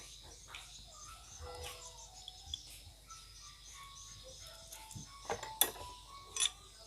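A few faint, sparse metallic clicks and ratcheting ticks as the small head is swapped on a refrigerant pipe flaring tool during work on an LG freezer, over a quiet background.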